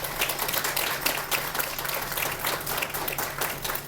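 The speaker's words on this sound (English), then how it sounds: "A round of applause for our panelists." An audience at a leadership panel on the senior economy claps for the panelists, a steady dense burst of many hands at moderate loudness with no voices over it.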